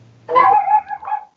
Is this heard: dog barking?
yes